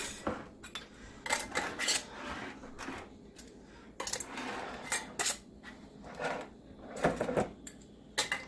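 Metal screw-on rings being fitted onto canning jar lids ahead of pressure canning deer and moose meat, a run of small clinks, scrapes and taps in irregular bursts, faint and close with no talking.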